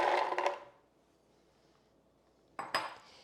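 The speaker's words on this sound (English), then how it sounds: "I'm going to add in the tiger nuts." Dry tiger nuts tumbling into a blender jar, a rattling clatter of hard pieces at the start, a quiet pause, then a second brief burst of clinks against the container.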